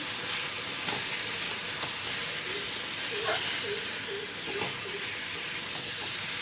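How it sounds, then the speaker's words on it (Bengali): Ground spices, chilli powder and coriander-cumin powder with tomato, are sautéed in a pan, producing a constant close sizzle and steamy hiss with faint scraping stirs throughout. "তো এখন মশলাটা ভালো করে কষাবো।"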